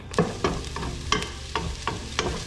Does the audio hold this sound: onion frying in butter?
yes